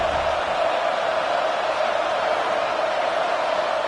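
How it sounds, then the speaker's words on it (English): A football stadium crowd roars steadily to urge the defense toward a red zone stop on third down, a dense continuous wall of distant cheering with no breaks. "This crowd is trying to inspire this defense to make a big red zone stop."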